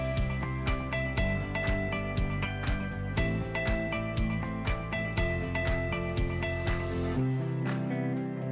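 Six dashboard screws being fitted and tightened on a Lvbao electric passenger tricycle, a steady run of close ratcheting clicks that then gives way to a low hum.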